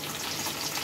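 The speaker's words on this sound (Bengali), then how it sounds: "চলো আরেকটু এটা লাল লাল করে ভেজে নেবো" Ridge gourd fritters fry in hot oil with a steady, dense sizzle that fills the whole moment, close and fairly loud with no talking.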